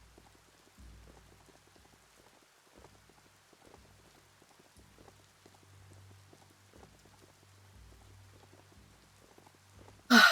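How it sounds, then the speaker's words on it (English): Soft rain patters steadily in the video game Biomutant, faint and continuous with low rumbling thuds underneath, ending in a sudden louder burst. "Oh my character's like very shiny because they're soaking wet in the rain."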